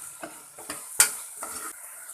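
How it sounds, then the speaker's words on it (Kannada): Sizzling tomatoes in a pan for vegetable pulao, stirred with coriander powder, turmeric and garam masala; a spatula scrapes and taps several times, one sharp clink standing out, over a steady close frying hiss. "ಹಾಕಿ ಚೆನ್ನಾಗೆಲ್ಲ ಮಿಕ್ಸ್ ಮಾಡ್ಕೊಳ್ಳಿ"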